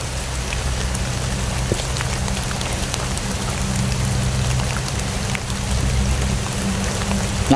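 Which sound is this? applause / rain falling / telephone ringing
rain falling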